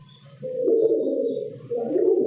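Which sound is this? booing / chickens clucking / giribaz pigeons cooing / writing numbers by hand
giribaz pigeons cooing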